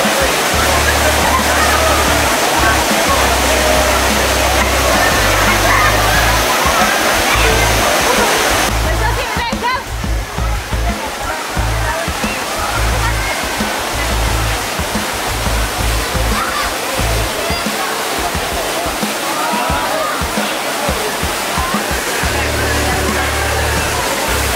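Water gushes steadily from a spout at a camping ground in Pamijahan, Bogor, a continuous close splashing rush with low thumping, as people talk nearby over the flow.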